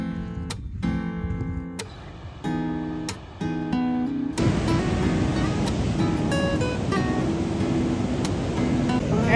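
Ocean waves breaking on the shore at a beach reached on a van trip: a steady, broad roar of surf that swells in after a few seconds of other sound, with no talking.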